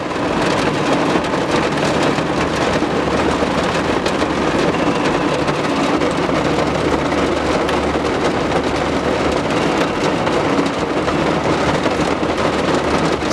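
Steady, heavy rain pours without a break, with a low, continuous rumble beneath it like distant thunder.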